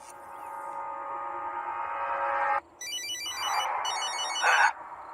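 A mobile phone rings at night with an incoming call: a steady electronic tone, then a bright, repeating ringtone pattern, loud and close, with no voices.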